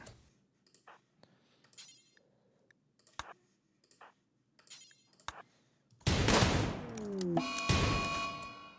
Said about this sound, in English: Mathis, shoot it. Get one shot. Good shot.